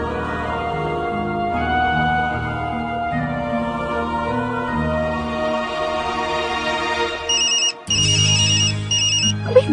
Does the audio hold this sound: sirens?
no